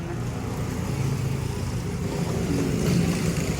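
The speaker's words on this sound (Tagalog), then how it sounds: "Ayan, at napandar na po ni Lugs." A freshly repaired motorcycle with new tires idles after being started, giving a steady low engine rumble that swells slightly near the end, close by and with no talking.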